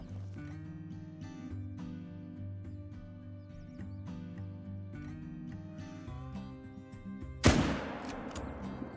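A single loud hunting rifle shot rings out near the end, in a Call of the Wild hunting game, cracking sharply over a steady musical backdrop with no talking.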